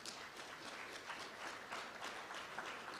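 Audience applause at a National Certification Body of Jamaica event, a steady wash of many hands clapping at moderate distance, sustained for a few seconds without a break.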